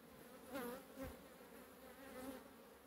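Italian honey bees buzz around a hive in the woods, a soft steady hum with a few louder passes as single bees fly close.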